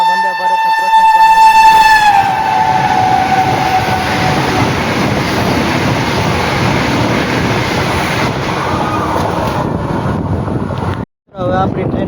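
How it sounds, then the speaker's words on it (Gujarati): A Vande Bharat train crossing at a station, loud and continuous with a sustained horn blast in the first two seconds, then a steady rushing rumble of passing carriages that cuts off briefly near the end. "મિત્રો તમે જોઈ શકો છો વીરપુરમાં વંદે ભારતનું ક્રોસિંગ પણ."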